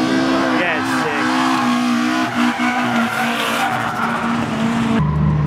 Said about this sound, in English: Do a skid, mate.